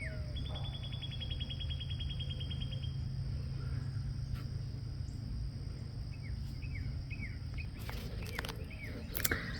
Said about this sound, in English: I want you to hear the birds singing.